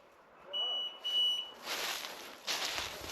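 An electronic beeper, apparently on a hunting dog's collar during a woodcock hunt in Kakheti, gives a few sharp, thin electronic beeps and a held tone, then bursts of hissy noise follow.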